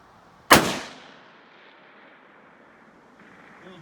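A Christensen Arms 300 Win Mag rifle fires a single loud, sharp shot at a steel plate 1,000 yards away, followed by a long, fading outdoor echo.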